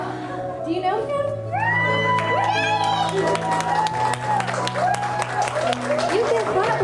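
Audience clapping and cheering for returning servicemen at a homecoming, with excited shouts and whoops from children and adults over the loud applause.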